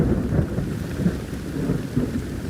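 Heavy rain pours steadily during a Houston storm while thunder rumbles low underneath, a dense and constant outdoor wash with no voices.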